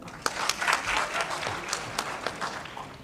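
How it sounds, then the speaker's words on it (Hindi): An audience at a mushaira poetry recital claps for a poet, a lively burst of dense applause with sharp individual claps standing out, close and fairly loud throughout. "मैं चाहती हूँ एक बार आप उनके लिए ताली बजा दें।"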